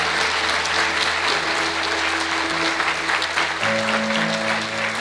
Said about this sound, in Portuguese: Eu queria que você aplaudisse o Senhor Jesus pela vida desse casal.